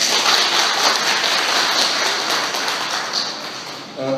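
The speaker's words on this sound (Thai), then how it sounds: "ให้โอกาสเราปรบมือขอบคุณธนาคารจริงครับ" A seated audience applauds to thank a bank at a network event, a loud steady wash of many hands clapping together without a break.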